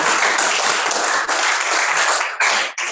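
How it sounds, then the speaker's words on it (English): Symposium audience clapping in a loud, dense burst of applause, with brief dips near the end before it resumes. "Did I hear a big clap?"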